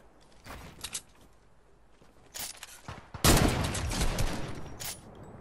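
Bursts of video game gunfire from a Fortnite squad match, with scattered single shots that give way to a louder, denser volley of rapid shooting. No one speaks.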